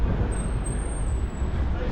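Dense road traffic rumbles on a Dubai road, a steady low roar of passing cars with a thin high whine on top, constant and close throughout.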